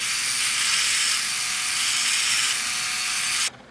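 Philips OneBlade electric shaver trimming a sideburn: a steady, loud, bright buzzing hum from close by that holds for about three and a half seconds, then stops abruptly, with no talk.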